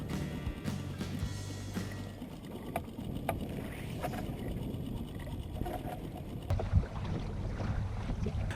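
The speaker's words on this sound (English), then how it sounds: "the westerly winds are beginning to strengthen" Strong westerly wind buffets the microphone in steady gusts, with water rushing and slapping against a small sailing dinghy throughout.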